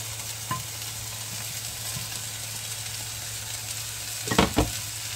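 Cabbage and onion stir-fry in a small pan for vegetable lumpia, a steady close sizzle with a low hum underneath, a brief knock early on and a burst of clattering stirring near the end.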